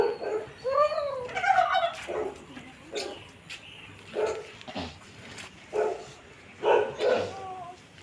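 A farm dog barks in short, repeated yelps and bow-wows, roughly a dozen bursts at an uneven pace at moderate distance, with some whimpering notes and faint background noise; turkeys are kept nearby.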